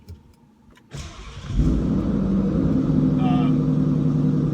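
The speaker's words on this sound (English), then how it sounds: "the cold startup is pretty loud with the Borla S types" A manual Ford Mustang GT with a 435 hp V8 and Borla S-type exhaust cold-starts in a garage: about a second of quiet, a starter crank, then a loud catch into a steady, rumbling high idle.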